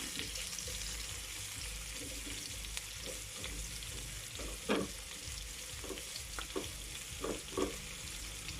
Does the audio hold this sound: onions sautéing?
yes